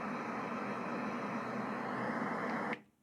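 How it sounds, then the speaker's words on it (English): A Letsfit white noise machine plays brown noise, a deep, steady rushing hiss held at even level before it stops abruptly near the end. "And then brown noise, which is deeper still."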